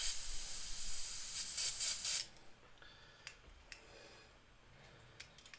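An airbrush sprays paint in a loud hissing burst for about two seconds, then cuts off, leaving faint ticks and small clicks in a quiet room.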